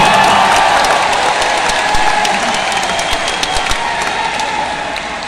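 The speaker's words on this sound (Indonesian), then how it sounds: "Tepuk tangan untuk Mas Ahaye" Loud crowd applause for the Democratic Party chairman at a political declaration rally in Indonesia, dense sustained clapping with a hint of cheering, tapering slightly toward the end.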